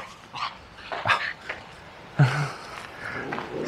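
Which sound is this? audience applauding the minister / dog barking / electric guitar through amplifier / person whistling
dog barking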